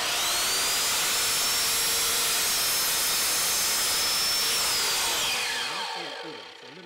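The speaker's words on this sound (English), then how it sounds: "I'm just going to saw down the length here" A length of timber being cut for a DIY artist's easel with a powered saw, a loud continuous whining cut that winds down at the end.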